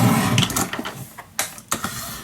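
A Fiskars paper trimmer slices through scrapbook paper in a few quick, crisp swipes, with a longer rasping cut first and then two short, sharp strokes, close and clear with no talking.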